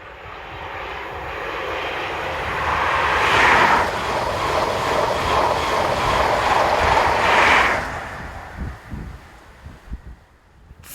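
A 1500 King's Cross to Edinburgh passenger train roars past, swelling to a loud broadband rush that holds for several seconds, then fades with scattered rattles as it recedes.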